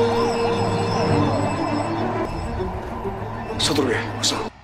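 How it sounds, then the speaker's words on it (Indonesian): A police siren wails, rising and falling over traffic rumble, growing louder as it nears, with sharp rushing bursts toward the end. "mereka mendengar sirine polisi sedang menuju mereka"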